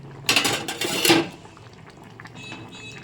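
Fried rohu fish pieces tipped into a simmering potato and drumstick curry, a loud clatter and splash of pan and utensil near the start, then a quieter bubbling simmer with faint clinks.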